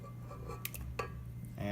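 Egg being mixed into dough in a bowl, with faint, sparse clinks and scrapes of a utensil against the bowl over a low steady background hum.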